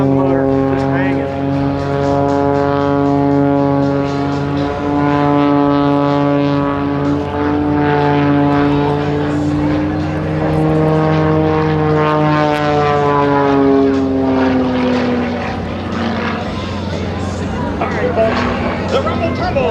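Propeller aerobatic plane performing at a 2008 air show at Atlanta's Peachtree Dekalb Airport. Its loud engine drone rises and falls in pitch as it maneuvers overhead, while an announcer talks over it.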